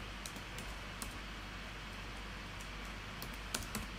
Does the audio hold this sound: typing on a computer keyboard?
yes